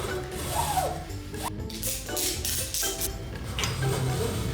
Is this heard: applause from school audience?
no